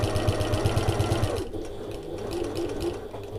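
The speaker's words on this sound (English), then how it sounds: "Pivot, lower my presser foot and carry on sewing" A sewing machine stitches along a bag strap in a quick, even run of close mechanical pulses that stops partway, leaving a quieter hum behind.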